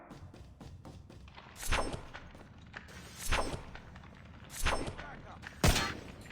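KILO assault rifle in a video game fires four separate sharp bursts at even intervals, loud against a quiet background with faint footsteps and a short spoken word.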